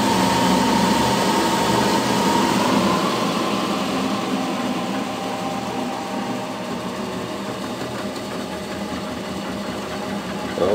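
A home-built permanent-magnet alternator generator spins steadily with a loud continuous whirring hum that eases slightly in pitch and level over several seconds.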